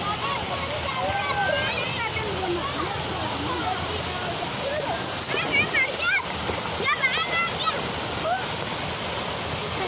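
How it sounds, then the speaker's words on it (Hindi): A fast-flowing waterfall roars steadily with children splashing and bathing in the water, shrill young voices and shouts rising over the constant rush of falling water. "बहुत ही खूबसूरत आबशार है, बड़ी प्यारी। पानी आ रहा है बहुत तेज़ी से"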